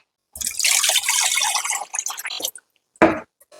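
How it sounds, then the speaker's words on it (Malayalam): Water splashes and trickles steadily for a couple of seconds as it is poured and stirred into arrowroot starch, then stops; a short second splash follows after a brief pause. "നല്ലതുപോലെ വെള്ളം ഒഴിച്ച് നല്ലതുപോലെ കലക്കി വെച്ചാൽ"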